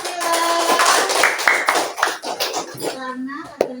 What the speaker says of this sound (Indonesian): tepuk tangan untuk Asila.